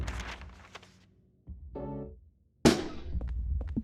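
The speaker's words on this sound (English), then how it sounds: "someone just let off like a random firework outside" A single firework set off somewhere outside, a sudden sharp broadband burst near the end that rings on briefly, following quieter room noise and a short tonal sound.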